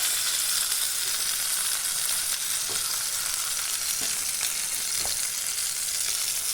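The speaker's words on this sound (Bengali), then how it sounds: "পটলটা আমার খুব সুন্দর করে সব দিকে ভাজা হয়ে গেছে।" Pointed gourd (potol) frying in hot oil, a steady bright sizzle held throughout with a few faint scrapes from a utensil.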